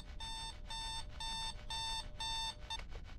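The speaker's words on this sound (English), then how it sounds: "Oh, come on with the alarm clocks." Alarm clocks ring in the ghost hunting video game The Other Side, a shrill electronic beeping in regular bursts of about half a second, repeating five times before breaking off into a brief stutter.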